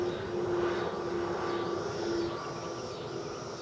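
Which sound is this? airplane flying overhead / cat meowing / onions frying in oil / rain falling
airplane flying overhead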